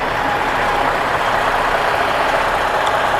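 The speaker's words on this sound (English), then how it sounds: "So I'm watching them load some flat stock on this other truck here." A truck engine idles steadily at a loud, even level while flat stock is loaded onto another truck nearby.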